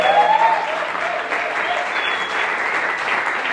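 A church congregation at a French-language worship service applauds and cheers for Jesus, a steady, dense wash of clapping that stays loud and close for the whole stretch.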